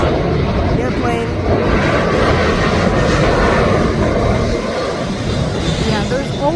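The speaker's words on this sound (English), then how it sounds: "there's always airplanes here in Rosemont because the O'Hare Airport is just nearby us" An airplane passes overhead near O'Hare Airport in Rosemont, Illinois, a loud, continuous rumbling roar filling the outdoor scene for several seconds without letting up.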